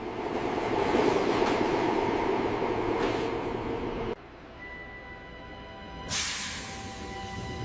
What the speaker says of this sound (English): The train leaves the factory, bound for the transit network. It enters the dark tunnel